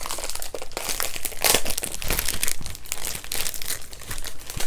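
Red and silver foil handled close up, continuous loud crinkling and crackling as the sheets are crumpled and rustled, with no talking.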